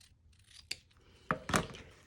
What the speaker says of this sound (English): and I'll just cut right here.